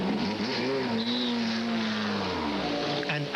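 A GT race car at Monza pulls out of the pits in the 1999 FIA GT Championship, its engine note steady and sustained with a gently rising and falling pitch, loud and continuous throughout.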